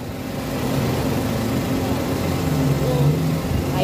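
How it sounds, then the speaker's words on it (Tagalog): The engine of a Suzuki Wagon R Stingray with a 7-speed CVT automatic idles with a steady, even hum, heard close up under a voice. "So, ayan po yung kanyang makina."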